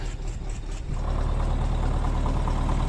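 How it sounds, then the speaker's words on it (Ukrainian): A tractor's engine idles after a winter cold start in minus three degrees, settling from a rougher opening into a steady, loud, close low rumble that runs alone without any talk. "Попрацював декілька хвилин трактор після простою."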